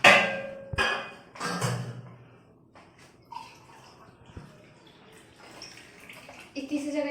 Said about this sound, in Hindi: तो थोड़ा सा पानी डाल देती हूँ।